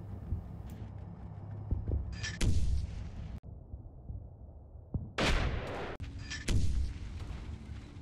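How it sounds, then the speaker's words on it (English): Sniper fire against an infantry platoon bogged down in wetlands near a bridge in the Combat Mission Battle for Normandy video game: several sharp, separate gunshots with echoing tails, spaced irregularly over ambient battlefield noise, some close and loud. "Second platoon, who has bogged down in the wetlands near the bridge, comes under accurate and sustained sniper fire from a grove of trees on the right flank"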